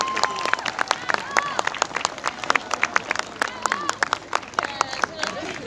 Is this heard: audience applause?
yes